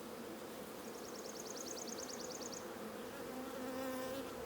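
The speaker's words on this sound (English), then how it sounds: "Look how many bees is hanging on this frame right here." A swarm of honey bees hangs on a hive frame, their buzzing a steady, close, even drone with a faint high chirping trill partway through and no talk.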